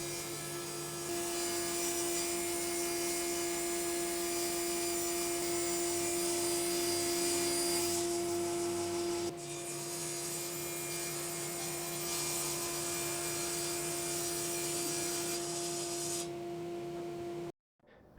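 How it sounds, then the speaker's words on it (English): A power saw cuts a bevel on a walnut chair seat and backrest, making a loud steady whine with a strong constant tone. It runs for about seventeen seconds with a brief dip midway, then stops abruptly. "I'm going to cut a bevel on the seat and the backrest"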